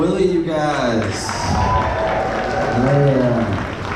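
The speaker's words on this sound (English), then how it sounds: "give it up again for Willie, you guys." A comedy show crowd at a theatre claps and cheers under a voice speaking through a microphone, the applause steady but partly masked by his talk.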